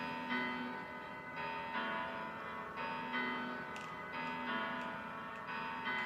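Sustained bell-like bass notes, C4 and G4, ring out in a steady repeating pattern from a studio keyboard set to a low piano register. The sound is fairly quiet and has no voices over it.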